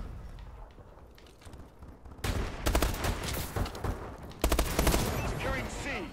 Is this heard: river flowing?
no